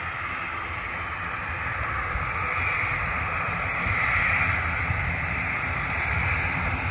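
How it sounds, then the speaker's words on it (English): Jet2 airliner departing Bristol Airport, its jet engines giving a steady, fairly loud roar that swells slightly midway, heard alone without talk. "A Jet 2 departure."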